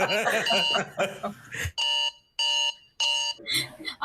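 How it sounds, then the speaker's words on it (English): A wake-up alarm in the Hyper Light Drifter video game sounds three times as loud, steady electronic tone bursts, with a speaking voice and a chuckle before them and talk returning at the end. "Did you hear a little alarm coming from Alum that's really annoying, like a freaking wake up alarm?"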